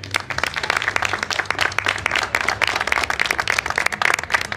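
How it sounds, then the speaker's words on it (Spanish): A crowd applauds at a homemade bread contest award ceremony with dense, sustained clapping that stays loud and even throughout, with no voices standing out. "un fuerte aplauso para ustedes también"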